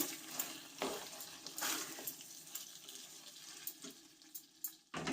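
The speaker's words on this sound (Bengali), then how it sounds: "কাঁচা লঙ্কাটাও আমি ভালো করে মিশিয়ে দিচ্ছি" Green chilies being stirred into chilli chicken frying in a pan, with scraping clinks of a spoon against the pan over a soft steady sizzle, fairly quiet and without talk.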